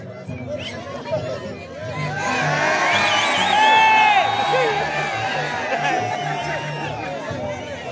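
At an outdoor scissors dance competition in Pomacocha, a crowd cheers, whoops and shouts with clapping mixed in, swelling to a loud peak midway as voices and children's cries rise over the general hubbub.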